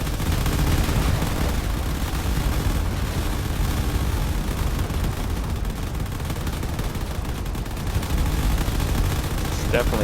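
Frigates in the game Drone Wars fire at turrets at close range: a dense, continuous barrage of rapid gunfire and explosions that stays loud for the whole stretch.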